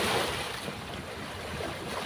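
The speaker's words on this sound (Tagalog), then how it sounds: "Medyo malingkak ang dagat ngayon mga bro." Rough sea with waves washing and rushing continuously near a fishing boat, mixed with wind noise buffeting the microphone.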